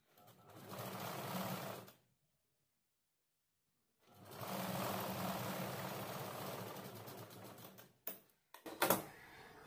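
Domestic sewing machine running a seam on a sleeve piece, two steady bursts of close, rapid whirring stitching separated by a pause, then a few short stop-start jabs at the end.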